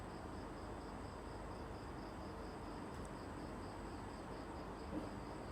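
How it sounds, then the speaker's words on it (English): Crickets chirp in a faint, steady pulsing trill over a quiet hiss of night air, with no voices. "crickets,"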